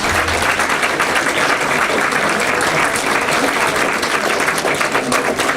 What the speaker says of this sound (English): Any applause for the candidates?